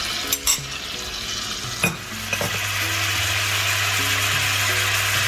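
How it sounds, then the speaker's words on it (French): Butter sizzles steadily in a frying pan as poultry is basted, a continuous hiss with a low hum underneath and a few sharp clicks and scrapes from the spoon near the start. "Je l'arrose."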